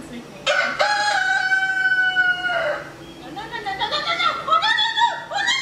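A rooster crows loudly and close by in one long drawn-out call, followed by a run of chicken clucks and squawks.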